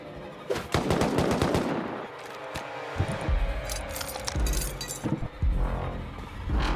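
Gunfire in a survival video game set on an icelake, with rapid bursts of shots mixed with clinking and glassy shattering impacts, loud and close, spread across several seconds without talk.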